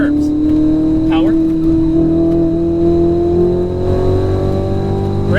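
A Ferrari 488 GTB sports car engine accelerates on a race track, its loud, steady rising drone filling the cabin while a voice speaks over it.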